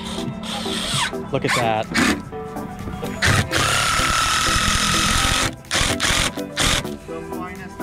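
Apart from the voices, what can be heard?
power tool fastening wooden trail roller deck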